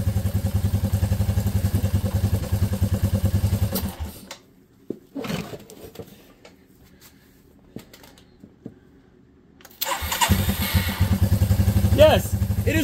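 The engine of a Suzuki LT230E ATV being revived chugs loudly and close. It cuts out to near quiet for several seconds with a few faint knocks, then roars back into a steady run.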